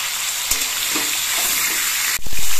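Hilsa fish frying in oil in a pan, a close, even hiss with a few soft knocks, ending in a louder clatter as the fish is turned, no voices.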